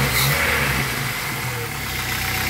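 Jeep 2.5L four-cylinder engine fitted with a 4.0L throttle body, idling just over 1,000 RPM with a steady low mechanical hum and faint rhythmic pulsing, close and alone.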